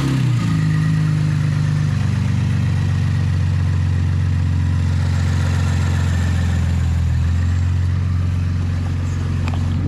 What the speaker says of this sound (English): I can start the engine and hear if there's any difference in how quiet it is